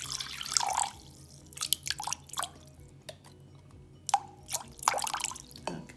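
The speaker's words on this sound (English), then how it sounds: "I'm gonna add a half a cup of vinegar. That's the distilled vinegar." Half a cup of distilled vinegar is poured while making a cucumber, tomato and onion salad, heard as a string of light drips and small splashes scattered over six quiet seconds.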